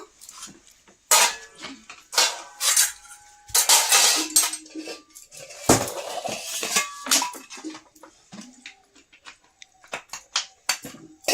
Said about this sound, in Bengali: চলো এখন ভাত দেবো